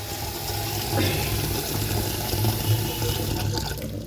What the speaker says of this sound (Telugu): ఉప్పు వేసి నీళ్ళు తీసుకున్నాను